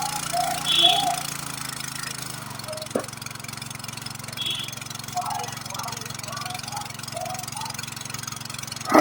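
A 5 HP petrol water pump engine runs steadily at a moderate idle, drawing water in an open field, with a constant droning hum throughout and someone talking over it.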